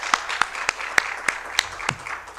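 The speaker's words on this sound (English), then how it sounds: "Let's give them all one big round of applause." Scattered individual handclaps at an education summit, about eight sharp, separate claps spaced unevenly, moderately close and with no talking over them.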